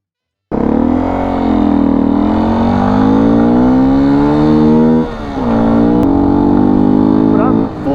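A dual-sport motorcycle engine is revved hard and close. Its pitch climbs in a loud, buzzing whine, drops briefly, then is throttled up again to high revs.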